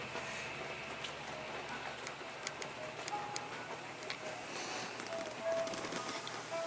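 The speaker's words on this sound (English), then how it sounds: "Still raining." Steady rain falls outside a vehicle stranded on Highway 101 in Northern California, a soft continuous patter with scattered light ticks and drips throughout.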